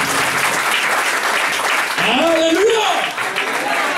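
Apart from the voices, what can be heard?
church congregation applauding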